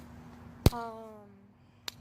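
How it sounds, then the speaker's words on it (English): A fist punches into an open hand, giving two sharp, soft slaps about a second apart in a quiet room, with a brief falling tonal sound after the first. "if you hear these type of noises, I'm just going like this, I'm just punching my hand."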